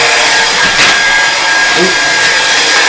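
A hair dryer blows steadily on an oil painting of mountains, a loud, close, unbroken roar with only slight wavers and no clear talking.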